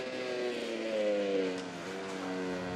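A factory Ducati racing motorcycle in a video game rounds the Jerez circuit, its engine a steady, high-pitched whine that rises and dips as the bike shifts and accelerates, heard close and continuous.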